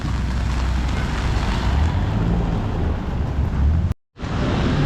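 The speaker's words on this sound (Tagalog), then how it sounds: "Ayan, ulan po." Steady rain falls in a rural Philippine setting, a dense, continuous hiss mixed with wind rumble, cut by a brief dropout near the end.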